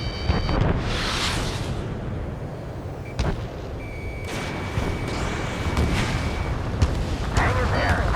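A missile explosion in the combat flight game Ace Combat 7 rumbles heavily under continuous jet and battle noise, with several sharp booms and brief electronic tones scattered throughout.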